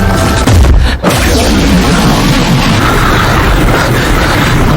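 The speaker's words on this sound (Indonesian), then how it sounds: "menyemburkan semacam sinar laser yang membuat ledakan semacam bom atom" Godzilla's atomic-bomb-like blast in the film Godzilla Minus One, a loud broadband roar and rumble filling the whole clip, with a sharp cut near the start and a sustained thundering wash afterward.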